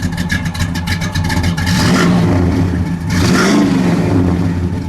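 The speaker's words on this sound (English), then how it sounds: "then we'll give it a rev" A 1969 Pontiac GTO Judge with a Ram Air III V8 revs up nearby, two loud throttle blips rising and falling over an idling rumble, heard alone without talk.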